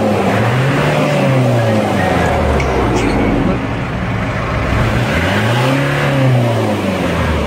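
A Bongo van engine revs up and eases off in a couple of smooth swells, steady and fairly loud, with a voice speaking over it.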